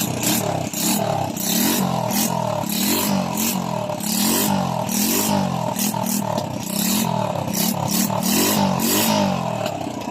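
A Honda Wave 100 motorcycle engine, which stalls suddenly and blows headlight bulbs, idles and revs nearby, loud and continuous with a rough, clattering pulse and repeated throttle surges.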